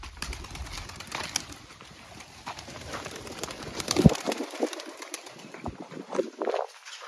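Pigeons feeding outdoors heard softly amid steady outdoor background noise, with faint cooing and occasional flutter-like clicks, no clear talking.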